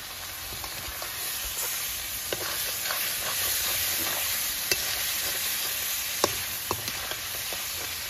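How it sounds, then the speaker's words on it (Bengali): Goat meat, from goat head, frying in a pan with chili paste, turmeric and other spices: a continuous close hissing sizzle with occasional sharp ladle taps and scrapes as it is stirred, and no one speaking. "এইভাবে ভালো করে মাংসটাকে কষিয়ে নিতে হবে"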